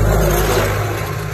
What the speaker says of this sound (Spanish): Chiva, que viene un tractor, perro.